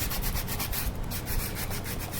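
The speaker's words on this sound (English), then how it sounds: "I just lay the card down and just begin to do the sanding." Rhythmic abrasive rubbing as sandpaper scrubs the coating off a playing card laid flat, steady back-and-forth strokes close up with a short pause midway, no voices.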